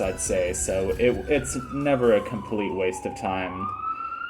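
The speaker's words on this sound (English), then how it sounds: "That's a siren going by outside" A siren in the streets of Baltimore wails in the background, its tone sliding down, while a person keeps talking over it.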